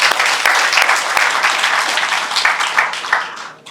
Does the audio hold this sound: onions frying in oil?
no